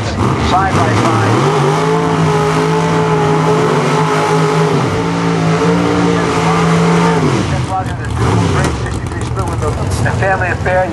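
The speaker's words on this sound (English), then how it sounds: "Two Corvettes side by side." Two Corvettes launch side by side in a drag-racing elimination round, their loud engines roaring steadily at close range, then shifting and fading as the cars pull away down the strip.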